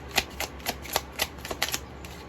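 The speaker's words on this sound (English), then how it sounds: "But I want to shuffle so that something actually comes out." Tarot cards are shuffled by hand, giving a run of about ten crisp, close riffling slaps at an uneven quick rhythm, alone with no talk.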